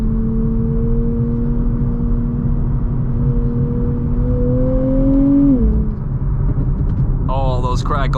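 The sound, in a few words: sports car engine revving with exhaust crackles on lift-off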